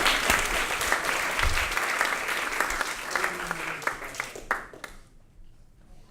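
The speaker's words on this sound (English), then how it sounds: "Everyone, round of applause for yourselves." An audience at a live VR game event claps enthusiastically for several seconds, the applause thinning to a few scattered claps and fading away near the end.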